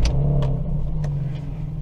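A car engine, on a budget drift car, idles with a steady low rumble close by, a few brief higher bursts rising over it, and no voices.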